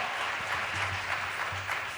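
A church congregation at an Easter revival service claps together, a steady, dense wash of hands filling the room with no pauses, low murmur and faint tones beneath.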